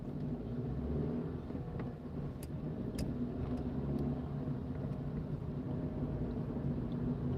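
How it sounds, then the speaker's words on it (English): A car in a UK town drives up from behind after coming around a corner, a steady low road rumble with light tyre noise and a few faint clicks that stays level throughout. "there's nothing behind me apart from a car that's just come around the corner"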